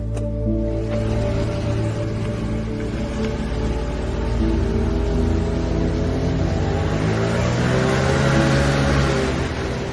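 An internal combustion engine, modified to run mostly on water with a little gasoline, drones steadily and climbs gradually in pitch as it revs, close and loud without talk.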